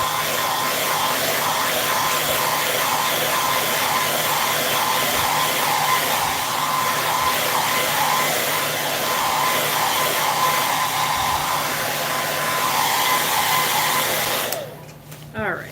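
A handheld heat dryer drying a stamped craft piece blows with a steady, loud, close whirring roar that runs without a break and then cuts off near the end.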